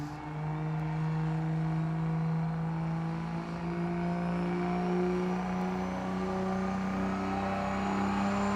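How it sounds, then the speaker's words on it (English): A drift car at an ICAR Mirabel drift event, heard as a loud, steady engine drone held at high revs with a broad, noisy hiss beneath it, continuous throughout. "Jason Farron, it's time you lit those tires up."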